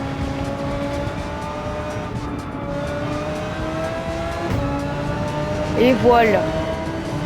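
A racing car engine in Gran Turismo 7 holds a steady drone with rising harmonics as it accelerates, a brief tire squeal near the end, while someone talks briefly over it.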